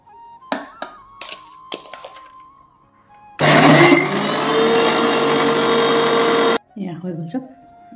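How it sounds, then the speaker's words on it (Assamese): Mixer grinder blending boiled coconut with vinegar, lemon and salt for coconut ladu, a loud steady whir of about three seconds that starts abruptly and cuts off, with brief knocks before and after. "এতিয়া মই এইখিনি মিক্সিত দি লওঁ"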